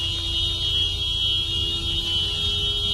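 A continuous high-pitched electronic alarm beeping steadily after a car crash, loud and unbroken over low road or engine rumble, with no voices.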